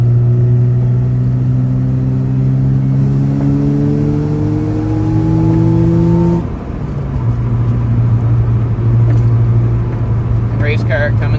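A Mazda RX7 rotary car drives along a country road with no sidewalks, its engine droning steadily and rising in pitch through the gears, with a brief dip while turning; a voice talks over the engine throughout.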